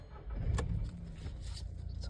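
A car engine turns over and catches through a newly fitted push-button start, a brief muffled rumble close by that settles into a low idle.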